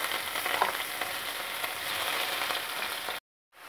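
Garlic, ginger and onion fry in hot oil with cumin, a steady dense sizzle that holds at even loudness for about three seconds before cutting off abruptly.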